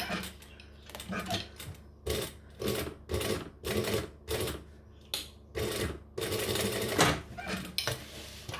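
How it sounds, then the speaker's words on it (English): A sewing machine back stitches over a bag strap in short bursts, stopping and starting repeatedly, each run a few seconds long, loud and close. "which is why I back stitch over it a bit"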